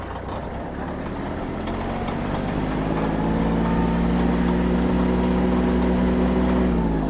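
A Kubota GL-23 mini tractor engine revs up steadily to maximum speed, its rising drone growing louder and holding at a high, steady pitch.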